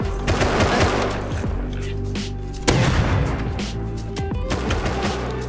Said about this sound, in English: And then somebody's shooting at him.